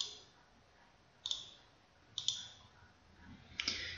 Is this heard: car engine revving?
no